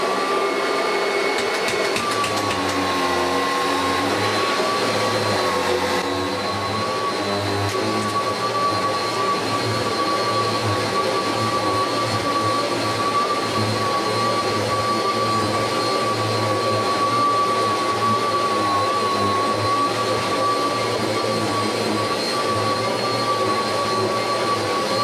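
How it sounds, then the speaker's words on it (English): A Kirby Legend 2 upright vacuum cleaner runs continuously, a loud, close, steady motor whine with a high sustained tone and roaring airflow, unchanging throughout with no speech. "Right, can just vacuum now, I think."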